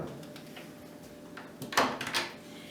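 Small cabinet door in a metal-lined dry sink swinging open, a brief soft creak and light knock near the middle, close and moderate against faint room tone.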